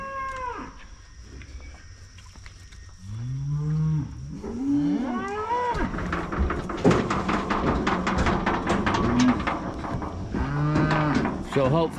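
A bull standing in a livestock trailer on a pasture gives repeated loud, close moos, while a run of sharp metallic clattering and knocking from the trailer builds in the middle.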